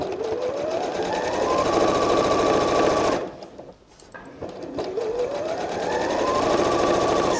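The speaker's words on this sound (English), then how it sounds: "Sew down to the end, leave the needle in, lift your foot and pivot it, and sew across the bottom." A sewing machine stitches a fabric strap in a steady, close mechanical whir that ramps up, runs fast, stops briefly while the fabric is pivoted, then starts again.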